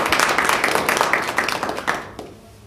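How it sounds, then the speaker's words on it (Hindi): An audience at a franchise workshop applauds to welcome guests with dense, close-up clapping that keeps up for about two seconds and then dies away fast. "हम उन सब का तालियां बजाकर दो मिनट स्वागत करेंगे"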